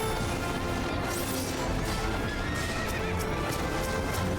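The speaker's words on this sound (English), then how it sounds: "ghost horses." Ghost horses whinnying amid clip-clopping hooves in Final Fantasy XIV, game sound loud and continuous over a dense backdrop of battle noise and occasional crashes.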